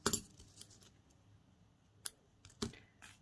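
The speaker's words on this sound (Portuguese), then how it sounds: "é só cortar esse fio" Scissors snip amigurumi yarn in a few quick, close, crisp clicks, with faint handling noise between them.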